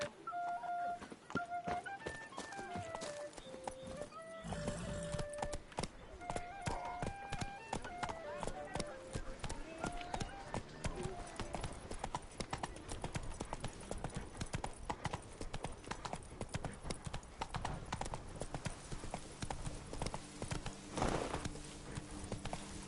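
Hooves of Roach, the horse in the game The Witcher 3, clip-clop at a steady gallop across ground, loud and close, with music and voices running alongside.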